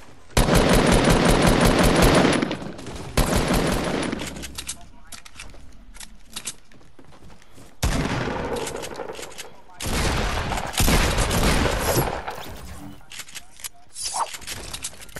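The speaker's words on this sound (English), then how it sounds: "I'm getting shot at." Rapid automatic gunfire in a video game comes in loud, dense bursts, with a long burst at the start and more volleys later, broken by quieter gaps.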